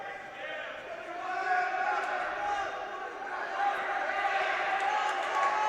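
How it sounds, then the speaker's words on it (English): Crowd noise swells and holds at a high school wrestling match between Delphi and Frankfort, a steady roar of cheering voices rising after the first second and staying loud throughout. "Crowd's getting into it here"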